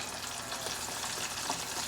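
Thin pork chops coated in seasoned flour frying in hot oil, a steady dense sizzle that runs evenly throughout at a moderate level, with no voices.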